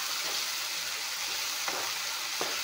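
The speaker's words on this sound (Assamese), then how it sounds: "অলপমান ভাজি ল'ম।" Chicken pieces fry in a pan with a continuous close hiss, a couple of soft stirring knocks breaking through near the end, with no voices.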